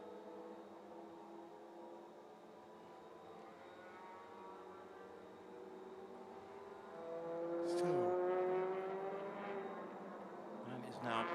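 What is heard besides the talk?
race cars on track during touring car championship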